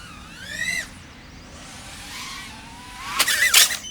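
Motors on a SkyStars BabyTurtle 3-inch micro drone whine in sharp rising and falling bursts with big throttle blips. A faint hiss runs between the blips, and a harsh, loud burst comes near the end.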